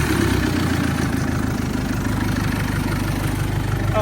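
A 400hp turbo diesel engine on a Thai longtail riverboat idles steadily, a loud, close, even low throb with a knocking pulse running throughout.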